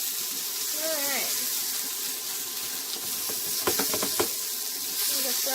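Steady frying sizzle and hiss of potatoes in an oiled pan fills the clip, with a voice speaking over it and a few brief clinks of a utensil near the end.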